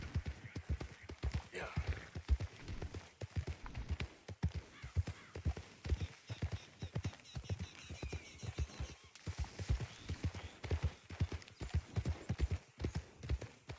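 Horse hooves clip-clop in a steady trotting rhythm throughout Red Dead Redemption 2 gameplay, close and clear, with a faint tonal game sound underneath and no talking.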